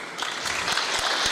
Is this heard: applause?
yes